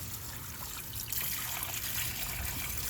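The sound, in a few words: water rinsing battery terminals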